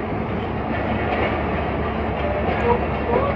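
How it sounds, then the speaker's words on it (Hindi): The 10DN Allama Iqbal Express pulls out of Lahore railway station with a steady loud rumble and faint rhythmic wheel clatter, heard from on board with a murmur of voices in the background. "गाड़ी हमारी जो है वो लाहौर रेलवे स्टेशन से डिपार्चर हो रही"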